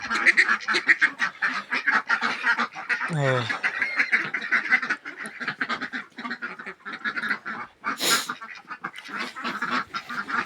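A flock of Muscovy ducks quacks continuously and loudly at close range, overlapping calls in rapid rhythm, with a person speaking under the noise.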